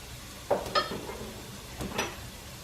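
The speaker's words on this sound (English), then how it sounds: "to the broccoli, we're gonna add a nice teaspoon of minced garlic." Minced garlic dropped into broccoli frying in a pan, giving a soft sizzle with a few brief stirring and scraping clicks, fairly faint and close, with no voices.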